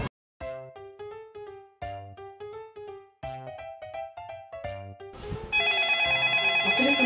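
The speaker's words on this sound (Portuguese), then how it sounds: "O telefone tocou." A telephone rings with a repeating melodic electronic ringtone in short, evenly spaced phrases, close and clear, then a louder, busier burst of tones and noise takes over near the end.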